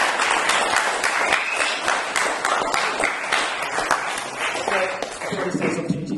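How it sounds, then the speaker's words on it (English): Audience applause fills the room, dense continuous clapping from a sizeable crowd that holds steady for several seconds and then thins slightly toward the end. "One more round of applause."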